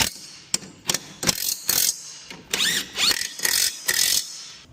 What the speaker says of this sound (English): Get our impact gun.